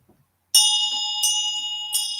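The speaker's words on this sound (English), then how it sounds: "I'm going to ring my bell." A small hand bell rings three times in a slow even rhythm, each stroke a bright clear metallic ring that lingers and decays, close and alone in a quiet room.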